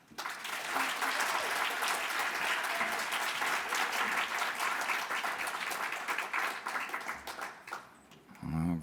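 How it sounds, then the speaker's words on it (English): An audience applauds the finalists at the National Japan Bowl championship and awards ceremony, sustained dense clapping that swells quickly, holds for several seconds and tapers near the end. "another big round of applause for our finalists here"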